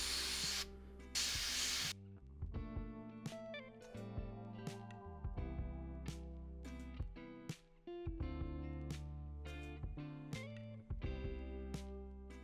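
A brief, loud hiss of an airbrush spraying Pro Acryl paint onto a model vehicle lasts about two seconds at the start, followed by music with no spraying.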